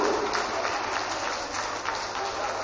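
A crowd at a freestyle competition applauds steadily, a dense patter of clapping that holds at a moderate level from start to finish without pauses.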